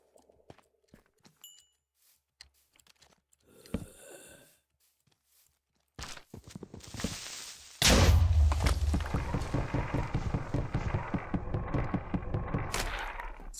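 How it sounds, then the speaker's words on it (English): A video game explosion bursts in suddenly and loudly after quieter scattered clicks and thumps, followed by a continuous crackling, rumbling barrage of blasts and debris that keeps going to the end. "Explosion well and truly exposed the heart."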